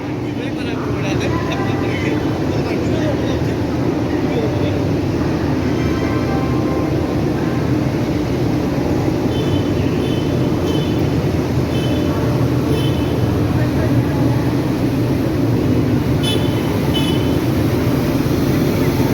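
Loud, continuous low rumble of a large WAG-7 locomotive engine idling nearby, steady throughout with faint higher mechanical whine above.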